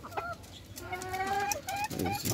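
Caged local and Egyptian Fayoumi laying hens clucking and cackling in a series of short calls at moderate distance, fairly faint, with no talk over them.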